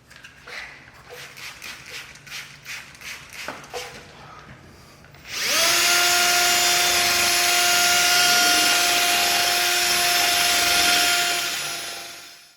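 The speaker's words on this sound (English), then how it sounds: "So we've got a 1500 grit that we're putting on now, and we're going to sand this down." A power sander with 1500 grit sandpaper works a car headlight lens, starting up after some light tapping into a loud, steady, high-pitched whine that holds for several seconds before tailing off.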